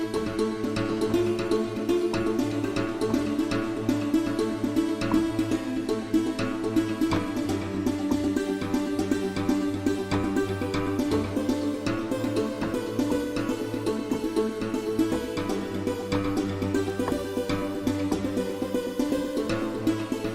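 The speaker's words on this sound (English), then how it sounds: "So this is the Santur with a vocal filter, a" A santur synth patch with a vocal filter layered over a vocal sample in a dense, continuous mix of plucked arpeggiated notes and sustained tones, steady and full throughout with no speech.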